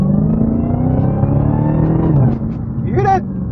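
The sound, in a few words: 2023 Dodge Challenger Hellcat Redeye supercharged engine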